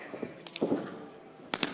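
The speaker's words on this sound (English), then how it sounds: "hard knife edge chop by Eric Cannon" Wrestler's hard knife-edge chop to an opponent's chest at a live independent wrestling show, a few sharp slapping cracks ringing out over crowd noise, with a commentator talking.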